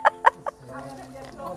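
Free-range village chickens give two sharp clucks and a softer third, close and loud, before a low voice and other murmuring carry on underneath.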